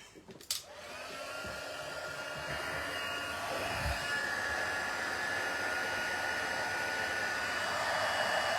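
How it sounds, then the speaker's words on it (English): Heat tool blowing hot air onto a gold Christmas tree decoration, a steady whooshing hiss that starts after a brief click and holds at an even, fairly close level to the end with no talking. "And I'll bring my heat tool in."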